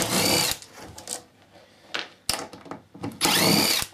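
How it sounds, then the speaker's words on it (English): A power screwdriver undoes Torx screws on a Solis solar grid inverter in a workshop, several short whirring bursts of the motor separated by quiet gaps and small clicks. "Undoing all these Torx screws"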